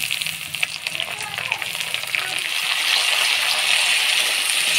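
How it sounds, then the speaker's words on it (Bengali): Chopped tomatoes hit hot onions frying in a pan, and a loud, continuous sizzle builds and holds steady to the end, with a voice faintly underneath. "এবার টমেটো কুচি দিয়ে দেব।"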